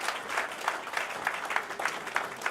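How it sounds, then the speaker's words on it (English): A brief burst of clapping from a modest audience at an outdoor-style Veterans Day ceremony, moderately loud and irregular, carried on by a handful of hands. "Let's give him a great round of applause."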